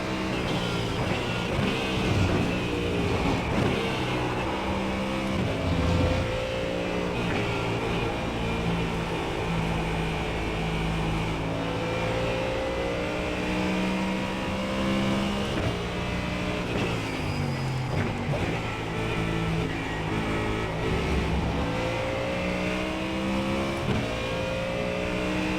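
A Ford Mustang GT3 racing in iRacing, its engine revving hard through repeated up- and downshifts, loud and close throughout with no talk.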